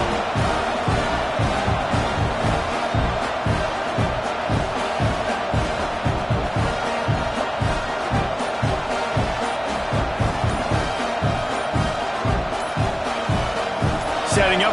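A college football stadium crowd roars steadily after an opening kickoff returned for a touchdown, a loud continuous wash of cheering with rhythmic thumps throughout.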